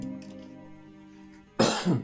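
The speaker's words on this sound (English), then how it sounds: "Oh, I'm getting the coughs." Near the end comes a single sharp, close cough, followed by a smaller second burst, breaking into quiet game music.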